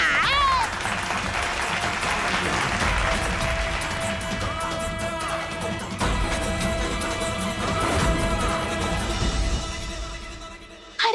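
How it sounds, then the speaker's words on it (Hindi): Audience applause in a TV drama scene, busy clapping mixed with a music track and scattered effects, fairly loud and continuous before cutting off at the end. "अरे हमरे लिए तालियां बजाओ भाई, तालियां"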